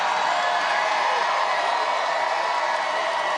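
A political rally crowd for Trump cheering and reacting, heard as a dense, steady, distant roar of many voices with no distinct breaks.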